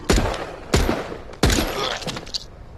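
Three loud, separated bursts of video game gunfire, each a sharp crack with a ringing decay, spaced roughly evenly, followed by scattered smaller impacts.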